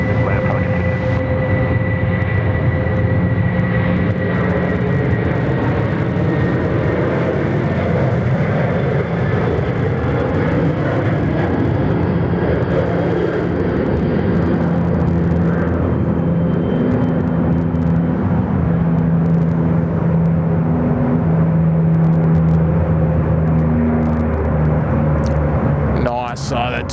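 A plane lands on runway 34 right at Sydney Airport, its engine roar and rumble loud and sustained with shifting pitch as it passes, while radio air traffic control chatter is heard over it.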